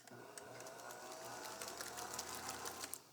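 An electric mixer whirs steadily as it blends vanilla into lemon knot dough, a continuous motor drone with faint rattling ticks, close and fairly quiet, with no talking.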